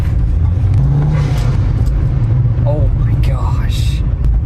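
A turbocharged car accelerating hard on the road with a loud, steady engine roar, brief airy whooshes of the turbo blow-off valve venting above it, and people talking over the noise.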